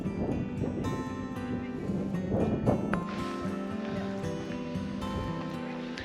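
Cold wind blowing across a mountaintop in Acadia National Park, Maine, gusting steadily and fairly loud against the microphone, with a few faint tonal sounds in the background.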